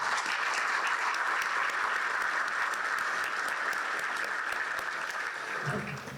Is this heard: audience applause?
yes